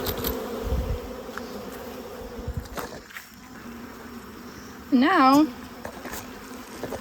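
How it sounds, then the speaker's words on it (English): Honey bees buzzing around an open hive, a dense continuous hum close to the microphone, with a brief word spoken and a louder buzzing flare near the end. "there's a lot of bees in that hive"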